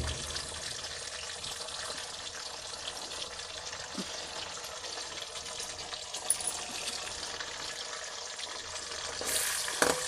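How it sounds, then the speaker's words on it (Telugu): Onions sizzling steadily in a pan while cooking an eggplant and prawn curry, a continuous close frying hiss with a few light clinks of a spoon and no talking. "అది కొంచెం పచ్చివాసన పోయేదాకా వేయించేసుకున్నాం."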